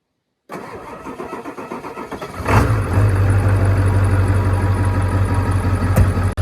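An old diesel truck that has sat unused for days cranks for about two seconds, then catches and settles into a loud, rumbling idle, heard close with no talk over it.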